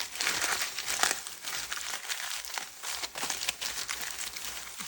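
Fine paper scrapes over a carrot being cleaned for Jamaican carrot porridge, giving close, dry, crinkly rasping strokes in uneven bursts with no talk.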